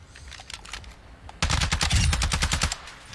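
Rapid video game gunfire bursts, sparse and quieter at first, then a loud sustained stream of automatic shots near the mic; no talking.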